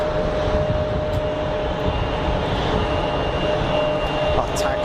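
A Pegasus airliner taxis at Geneva Airport, producing a steady, loud engine rumble and roar that holds constant throughout, heard at a distance.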